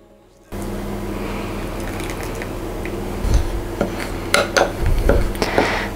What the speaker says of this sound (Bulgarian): Сега смесваме маслото с галетата.